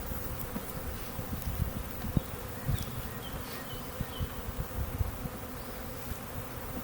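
A three-pound package of honey bees buzzes steadily during hive installation, a dense continuous drone close by, with occasional louder individual bees flying past and soft handling knocks underneath.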